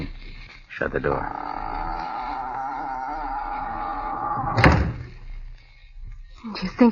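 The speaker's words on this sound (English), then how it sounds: "Shut the door." A door is pushed shut in a quiet interior during a radio crime drama, giving a sharp thump near the end of a sustained tonal drone, with a softer knock at the start and another onset at the close.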